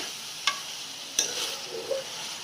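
Tomatoes and capsicum sauté in a pan for Chinese-style rice, with a low steady sizzle and a few light spatula clicks and scrapes as they are stirred, with no voices.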